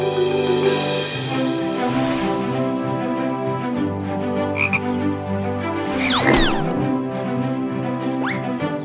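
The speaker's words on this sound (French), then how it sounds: "Regardez les enfants, une grenouille." A cartoon frog croaks loudly and repeatedly in a children's animation, its calls layered over steady musical tones, with squeaky whistling slides and a short crash partway through.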